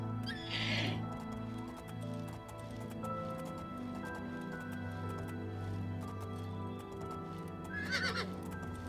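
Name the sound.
horse neighing and hooves, video game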